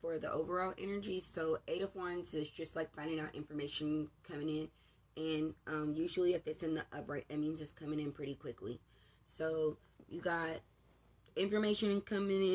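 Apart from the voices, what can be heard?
None of the usual background noises is heard.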